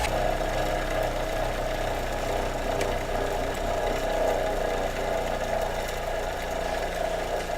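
Bench-mounted grinder slowly winding down after being switched off, a steady low mechanical hum and whir that keeps running evenly throughout.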